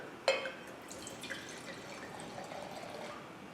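Water splashes and drips while a wine glass is rinsed between tastings of a Corvina and Merlot blend, a brief sharp splash followed by faint trickling.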